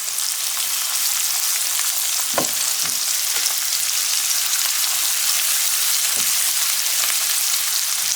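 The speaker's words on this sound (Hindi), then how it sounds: "और अदरक का पेस्ट भी, और थोड़ी देर के लिए फ्राई करेंगे, फ्यू सेकंड के लिए।" Ginger paste fries in a pan with a steady, even sizzle that continues throughout, broken by a few soft stirring scrapes near the start and once more later on, with no one talking.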